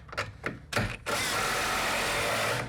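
A power drill drives a 3-inch screw through 3 inches of wood framing, with a few short stuttering bursts and then a steady loud whirring drive until it seats.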